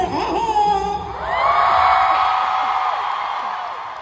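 Fans at an AHOF fan convention in Manila cheer and whoop, a loud sustained roar of the crowd that swells after a second and holds, with a voice over a microphone at the start.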